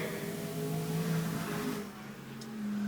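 Race cars on a Waterford track, including a refurbished number 7 coupe, pass with a mid-pitched engine drone that rises and then fades as they move away, fairly distant and without talk.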